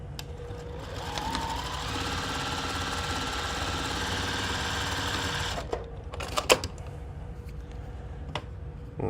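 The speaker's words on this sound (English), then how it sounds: "Lay these together, and let's stitch our seams." A sewing machine stitches the seams of a Churn Dash quilt block in a steady, continuous whir for about five and a half seconds. The run ends in a few short bursts and clicks as the fabric is handled.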